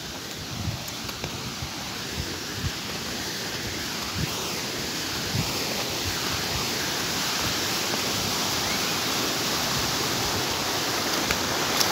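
A forest stream beside a village path rushes steadily, a dense, continuous wash of flowing water close by, unbroken for the whole stretch with faint low knocks underneath.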